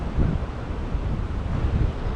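Steady, loud wind roars across the microphone beside a roadside creek, a continuous rumbling buffet with no letup and no voices.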